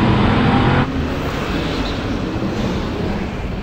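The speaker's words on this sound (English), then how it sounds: "The way this got off the line, the winter tires just bit in and it just rocketed off." A car on winter tires launches off the line on snow, a loud roaring rush of engine and tire noise that drops in level after the first second and then holds as a steady broadband drone.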